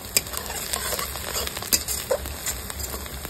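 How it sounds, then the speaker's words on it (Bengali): Curry leaves drop into hot oil with lightly fried onion for a Hyderabadi green chicken curry, giving a soft, close crackle with scattered sharp pops over a low sizzle, with no voices. "এবারে এখানে আমি কারি পাতা দিয়ে দেবো।"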